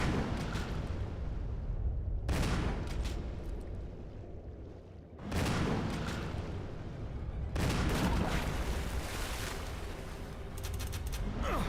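Rapid video-game gunfire aimed at a shark, in dense loud bursts that come in three or four long stretches with brief lulls between them.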